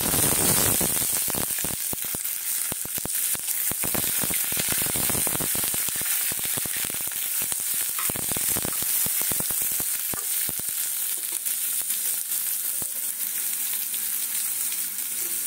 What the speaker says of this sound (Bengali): লঙ্কার পরে বেগুন দিচ্ছি